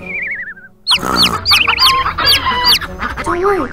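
Several cartoon chickens cluck and squawk loudly up close in a busy, overlapping flurry, following a brief warbling whistle-like tone at the start.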